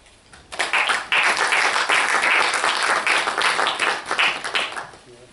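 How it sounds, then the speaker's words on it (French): A conference audience bursts into loud, dense applause after a speech about Africa, sustained for about four and a half seconds before stopping abruptly. "applaudissez vous-même"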